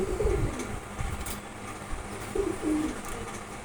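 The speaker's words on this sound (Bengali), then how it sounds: "এই জোড়া কবুতর দুটো শুধু মারামারি করে, দেখেন।" A pair of pigeons give low, soft coos, a short one near the start and another toward the end, against a steady background hiss.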